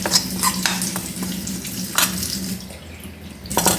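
Ground chili, coriander and turmeric powders, heated in a pan for cumin sambar, hiss and sizzle steadily after a sprinkle of water, with scattered crackles and a few stirring scrapes, close and fairly loud with no talking.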